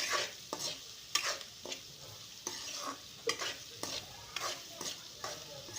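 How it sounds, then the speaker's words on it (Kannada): Onions fry in hot oil with a quiet background sizzle, broken by repeated spatula stirs and scrapes in an irregular rhythm, close and fairly soft. "ಎಣ್ಣೆ ಬಿಸಿ ಇರುತ್ತಲ್ವ, ಚೆನ್ನಾಗಿ ಬೇಯುತ್ತೆ ಈರುಳ್ಳಿ"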